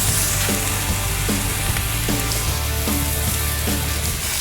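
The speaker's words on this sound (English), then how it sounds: "we're going to get a little crisp on these andouilles here" Andouille sausages sizzle and crisp on the grate of a Lone Star Grillz 24x36 offset smoker, a steady close frying hiss with a low hum beneath and faint periodic clicks, no voices.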